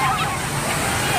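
Waves surge at Repulse Bay beach in Hong Kong, a loud, continuous wash of surf and sloshing water that fills the short stretch, with voices from the crowded shore mixed faintly underneath.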